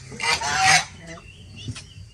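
Ducks and geese in an improvised pen give a few loud nasal honks in a quick burst, then softer calls, close by.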